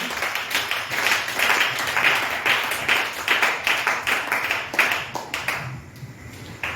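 A church congregation applauds, a dense, steady burst of hand clapping that pulses in waves for several seconds before thinning out near the end, with no voices over it.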